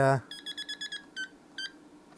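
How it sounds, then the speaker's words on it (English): An AC power tester held to a subwoofer coil gives a quick run of short electronic beeps, about six in a row, followed by two more spaced chirps, after a brief burst of nearby sound. "This is the AC power tester"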